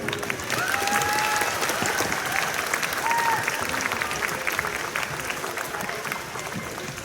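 An audience at a school honor choir concert applauds a pianist with steady, full clapping, with a few whistles and cheers above it that taper slightly toward the end.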